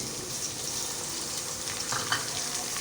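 One tomato added to a sizzling pan while cooking chicken with arvi, a steady close crackle and hiss of frying with faint stirring scrapes, no talking.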